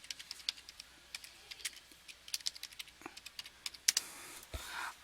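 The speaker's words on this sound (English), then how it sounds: "let's go to hands and we'll type in community service" Rapid, uneven clicking of keys on a computer keyboard as words are typed in, quiet and close, followed by a short rustle at the end.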